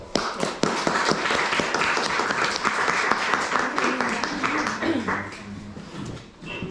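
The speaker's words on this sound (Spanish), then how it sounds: "pido un voto fuerte de aplausos, por favor" Strong round of applause at a startup inauguration event, dense clapping that thins toward the end as voices rise underneath.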